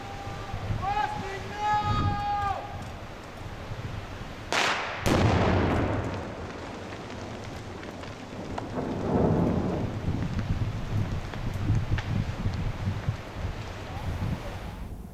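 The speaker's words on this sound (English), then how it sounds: "that's when we actually stomp the shotgun primer and initiate the explosion" Blasting charge set off by stomping a shotgun primer on a wilderness river in Arizona, a sudden loud distant boom that rolls into a long rumbling wash of noise, preceded by a brief whistle-like tone.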